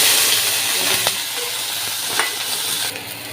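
Onion sizzles in hot oil in a pan with spices newly added, a dense steady hiss broken by a couple of sharp stirring scrapes, loud and close throughout.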